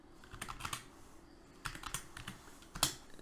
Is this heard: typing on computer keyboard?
yes